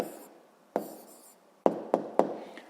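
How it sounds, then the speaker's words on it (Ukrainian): An answer is handwritten during a Ukrainian 7th-grade physics lesson, giving four quick, close pen strokes or taps on paper that land in an uneven rhythm, with no voices. "записуємо відповідь."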